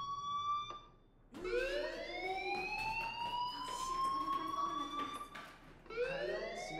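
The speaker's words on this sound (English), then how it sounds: "do you hear that fire alarm? That means you should be outside." A fire alarm wails in the video game Life is Strange, a rising electronic siren tone that sweeps up and holds, repeating loudly with a brief break, under a steady background.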